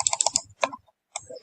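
Quick clicks from a computer mouse and keys while working in SolidWorks 2022, a rapid close burst of clicks, a pause, then a few more.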